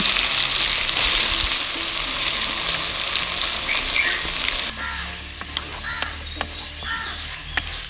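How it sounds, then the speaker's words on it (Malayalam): A mango mixture drops into hot oil with crackling mustard seeds in a village kitchen. A loud, close sizzle fills the first half, then falls to a softer fry while crows caw now and then in the background. "ചെയ്ത കൂട്ട് എണ്ണയ്ക്കകത്തോട്ട് ഇട്ട് കൊടുക്കണം."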